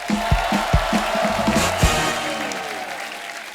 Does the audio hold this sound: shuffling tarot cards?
no